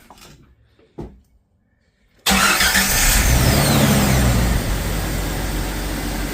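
A 1996 Jeep Cherokee engine cranks briefly and catches, then settles into a loud, steady idle close by, with a few quiet knocks and clicks before the start.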